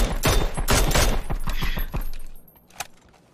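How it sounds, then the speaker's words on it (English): Rapid automatic gunfire in the video game PUBG, a loud, dense volley of shots that stops abruptly, followed by one lone crack. "Those guys are shooting kind of fast with those."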